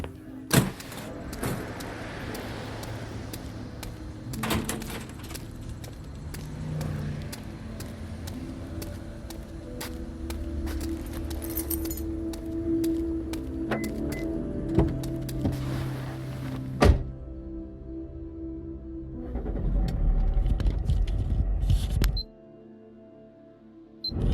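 A car drives late at night on a thinning road, its engine and road noise a steady low rumble with occasional clicks and bumps, loud and close from inside the cabin, cutting out near the end.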